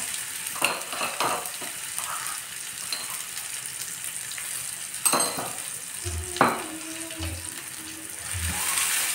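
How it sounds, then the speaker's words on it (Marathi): Ground garlic chutney frying in oil with cumin and turmeric, a soft steady sizzle broken by several scraping stirs and clacks of a utensil against the pan, close and fairly quiet, with no talk. "एकदम फ्राय होऊ द्यायची तेलामध्ये"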